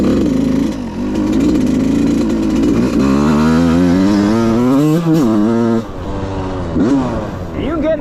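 An 85cc dirt bike engine on a trail, loud and close, rising and falling through steady high-pitched revs with a brief dip partway through before climbing again.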